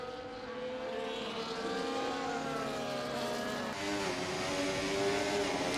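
A high-pitched Formula 1 car engine in the video game F1 24 at the Monaco Grand Prix screams continuously at steady loudness, its pitch climbing and shifting as it accelerates, with no talking.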